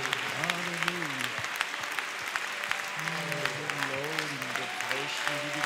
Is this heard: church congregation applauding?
yes